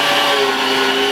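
A food processor runs with a steady motor whir as it minces meat, onions and garlic for meatballs.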